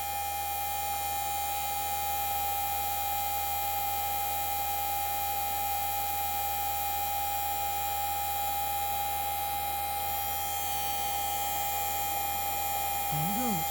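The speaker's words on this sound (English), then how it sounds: "in case you couldn't hear over the noise of that motor" Blower motor on a Workhorse Winnebago RV running after its bearing is oiled with 20 weight oil, a constant steady hum and whine that stays level throughout.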